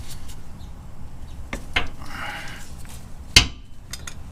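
A pry bar works a fastener loose during a clutch replacement, giving a few sharp metallic knocks and clanks with a scraping stretch between them, close up and fairly quiet.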